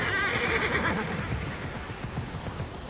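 Horse whinnying in the video game Immortals Fenyx Rising, with hoof clip-clop, a steady loud game soundscape filling the short moment and no talk over it.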